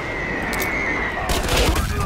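Rapid bursts of automatic gunfire in the free-to-play first-person shooter Ironsight, sharp cracks in quick succession against a busy in-game background.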